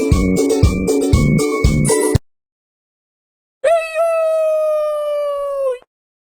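A dog barks rapidly several times in a children's letter-learning app, then after a short silence a long, clean howl is held for about two seconds before cutting off.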